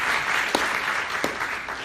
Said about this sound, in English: A round of applause for them again